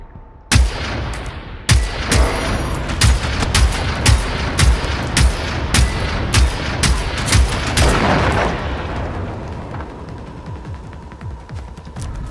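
Gunfire in a video game: rapid, loud shots in an irregular rhythm, some bunched in quick bursts, continuing for several seconds before trailing into a noisier, rumbling stretch.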